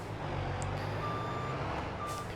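A logging truck in Farming Simulator backs up, its reversing alarm giving two clear high beeps about a second apart over a steady low engine drone.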